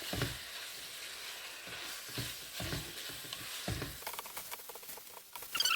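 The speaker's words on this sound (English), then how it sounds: "And fry with the garlic until it changes color." Minced meat fries with garlic in a pan for spaghetti with minced meat and eggs, giving a soft, steady sizzle. Occasional louder scrapes and stirring bumps come through, close by and fairly quiet.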